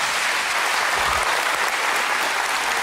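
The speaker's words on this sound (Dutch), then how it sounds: "ik vraag u een groot applaus" Audience applause at a televised Dutch animal day show, a dense steady roar of clapping from a large crowd, loud and continuous throughout.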